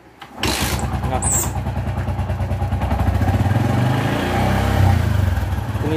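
A Yamaha Vixion motorcycle with a weak battery is kick-started, and its engine catches and settles into a loud, close, rapidly chugging run. Someone speaks briefly over the engine.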